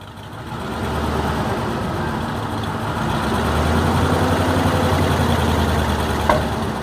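A 1956 Chevy engine idles with a steady low rumble, rising slightly as light throttle is added, alone and fairly close.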